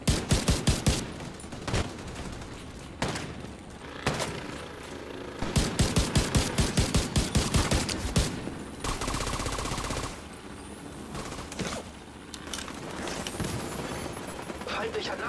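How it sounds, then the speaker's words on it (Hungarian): Rapid bursts of gunfire in The Division 2: Warlords of New York, repeated volleys of sharp automatic shots, with a steady hissing spray partway through and a voice speaking over parts of it. "lövöldözöm őket."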